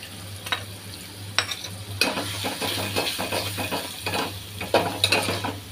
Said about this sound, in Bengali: একসাথে আমি সবগুলো ভেজে নিই তেলের মধ্যে